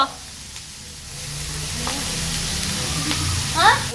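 Tomatoes hit a hot pan for dhal kichadi, setting off a steady sizzle and frying hiss close by, with stirring scrapes and a brief clink near the end.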